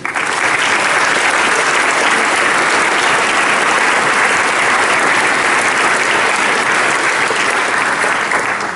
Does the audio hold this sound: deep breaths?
no